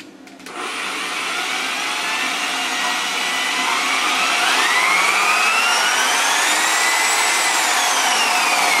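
A high-speed variable-speed car polisher whines up as the trigger is squeezed, a steady loud electric motor drone with rising and shifting pitch, running alone without talk.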